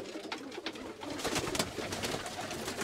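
Edremit butterfly breed pigeons coo repeatedly in a loft near Balıkesir, soft throaty calls rising and falling over a background of rustling and faint chatter from the flock.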